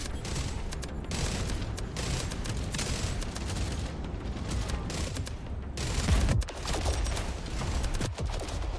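Rapid bursts of sniper and weapon fire in a space shooter game, a dense, continuous volley of cracks and booms with a few heavier thumps near the end, no talking.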